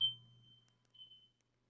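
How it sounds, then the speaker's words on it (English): A smoke detector alarm at a San Antonio Missions vs. Frisco RoughRiders baseball broadcast sounds two faint, high, thin electronic beeps, one at the start and another about a second later, over a low hum. "a smoke detector alarm is going off."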